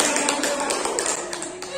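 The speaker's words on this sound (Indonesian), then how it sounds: "Iya, kita beri tepuk tangan." Classroom of children clapping together in a quick burst of sharp, close claps with voices mixed in.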